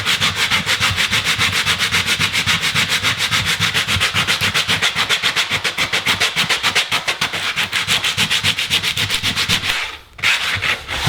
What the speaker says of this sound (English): I'm just going to try and sand it down by hand